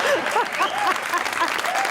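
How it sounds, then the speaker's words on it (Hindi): Studio audience applause on a Pakistani comedy talk show, a steady wash of clapping lasting the full two seconds, with a few voices and whoops rising over it. "तालियां!"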